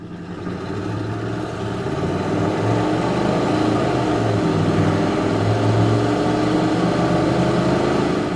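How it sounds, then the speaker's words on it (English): A 1993 Chevrolet K1500 pickup with a 5.0 V8 and automatic transmission accelerates on a test drive, its engine drone swelling steadily from the cab with road and wind noise, loud and unbroken, no talking. "we can roll into the throttle one more time"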